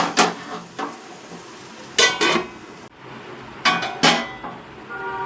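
Lid being set onto a cooking pot: a few sharp metallic clinks and clatters in separate bursts, close and distinct against quiet background.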